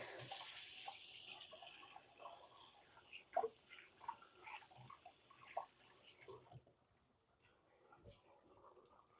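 Tap water runs while hands are rinsed in a home kitchen during dinner prep, a steady close splashing hiss with small clatters for about six seconds before it stops and the room goes quiet.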